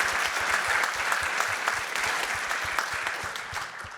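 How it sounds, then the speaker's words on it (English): An audience at a community event on Latinx growth applauds a speaker with steady, even clapping that runs the full length at moderate volume, tapering slightly toward the end. "just giving her a round of applause"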